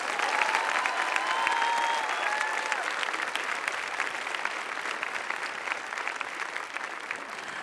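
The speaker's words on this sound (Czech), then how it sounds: "můžeme jim zatleskat?" Crowd at an outdoor Friday Mass applauds the accompanying band, a long, loud wash of clapping that starts strong with a few whoops and slowly tapers over several seconds.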